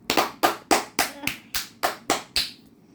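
A steady run of loud, sharp hand claps, about nine in three seconds at an even pace, close and crisp.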